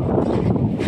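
Strong wind roars steadily into the microphone at a construction site, a dense low buffeting rumble that lasts the whole moment.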